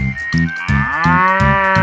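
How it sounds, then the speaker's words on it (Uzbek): A cow moos several times in close succession, deep and loud, with drawn-out, rising calls close to the microphone. "chaqiryapti. Sigir."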